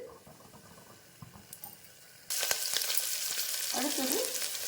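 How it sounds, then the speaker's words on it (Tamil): Green chilies and onion drop into hot oil over fried whole spices for a white veg kurma; after a quiet stretch with a few light taps, a loud, steady sizzle bursts in and continues close up. "பச்சை மிளகாயும் வெங்காயமும் போட்டுக்கிறேன். இது நல்லா வதங்கட்டும்."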